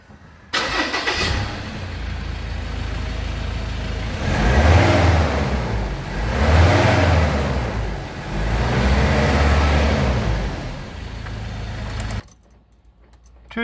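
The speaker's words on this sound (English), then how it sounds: "budget 3-inch exhaust on a Ranger" A 2016 Ford Ranger 2.2 litre fitted with a budget 3-inch exhaust fires up and idles, then gives three strong revs that swell and fall back before the engine cuts off near the end.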